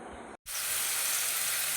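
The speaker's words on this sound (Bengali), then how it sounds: "তেল গরম হয়ে গেছে আমি দিয়ে দেবো পেঁয়াজ বাটা রসুন বাটা" Onion paste and garlic paste hit hot oil in a wok for chilli chicken, bursting into a loud, steady sizzle after a brief gap of silence, with no talking.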